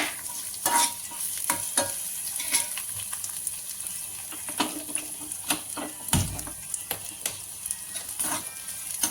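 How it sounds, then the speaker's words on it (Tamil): Onions hiss and crackle in hot oil tempered with mustard seeds, urad dal, cumin, curry leaves and green chilli, while a spoon scrapes and taps the pan in irregular strokes. "வெங்காயம் போட்டு வதக்கலாம்"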